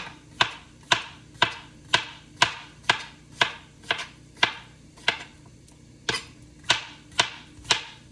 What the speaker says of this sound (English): You can rough chop it into those slices, however you want, thin, thick